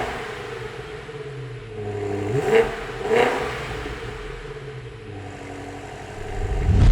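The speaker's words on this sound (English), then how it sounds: "this does have the M series competition exhaust. So we have turned that on and now we're gonna test what it sounds like." BMW X6M SUV with the M competition exhaust switched on, idling with a deep rumble, then two sharp throttle blips that flare loudly and fall back, ending in a heavier surge.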